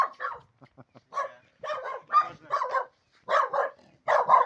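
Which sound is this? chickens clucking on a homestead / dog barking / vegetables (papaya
dog barking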